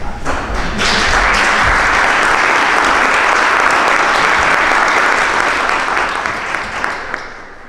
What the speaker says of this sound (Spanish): Hubo dudas cuando aplaudieron